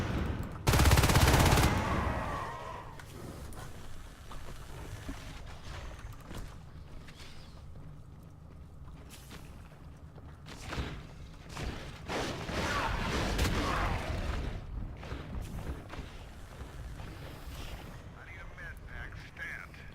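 Gunfire and grenade blasts in a competitive Natural Selection 2 match, with a loud burst at the start and then sustained rattling shots and rumbling explosions throughout, under a caster's commentary.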